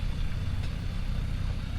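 A vehicle engine that had not been driven in about five years runs steadily with a low rumbling drone, close and continuous throughout, smoking slightly, on a muddy rainy track in the Barrington Tops.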